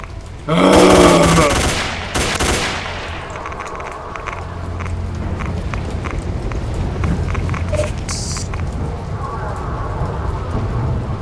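Half-Life gunfire effects in Oblivion Lost, a first-person shooter: a loud burst of rapid shots at the start, then a steady crackling roar of scattered fire and noise with a few sharper reports later.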